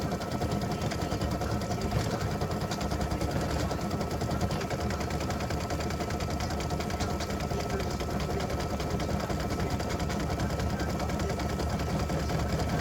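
An embroidery machine stitching a free-standing lace earring and ornament design, a steady rapid mechanical chatter of needle strokes holding a constant rhythm at moderate volume with no pauses.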